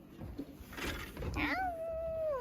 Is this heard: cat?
yes